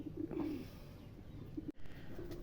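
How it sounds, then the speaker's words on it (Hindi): A pigeon gives low, throaty coos up close: one rolling call, then two short murmurs, and a fainter coo near the end, with a brief handling bump in between. "ये कबूतर है जी"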